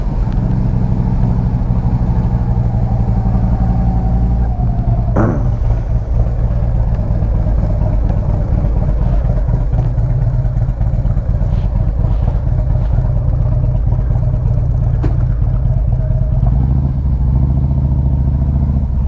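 A 2007 Harley-Davidson Road King motorcycle engine runs close and loud in a steady, lumpy idle rumble, with a brief rev and clatter partway through before it settles back to idling.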